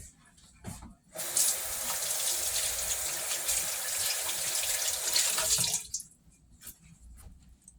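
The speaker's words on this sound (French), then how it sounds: "Mais je vais encore rincer mes mains devant vous." Running tap water gushes steadily over hands being rinsed at a sink, a broad continuous splash lasting several seconds before cutting off, with quiet room sounds and a brief murmur around it.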